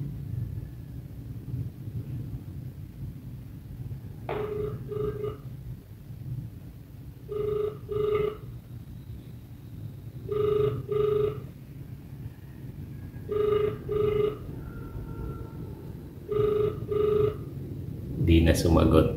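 An outgoing phone call rings back through a handset, giving six evenly spaced double-pulse ring tones over a steady low rumble. The tones are moderately loud, and the line stays unanswered until a noise burst at the end.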